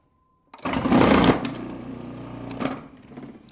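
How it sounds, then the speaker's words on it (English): A food processor slices sweet potatoes, starting with a loud motor whir and chopping rattle, then settling into a lower churning hum for a few seconds. "I think that it makes a cleaner slice when using the food processor."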